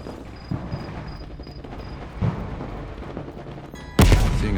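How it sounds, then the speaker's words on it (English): Gunfire in the Call of Duty: Cold War video game sounds as a few scattered shots under a steady background, then one loud, sharp blast near the end. "you followed the road right toward the sound of gunfire"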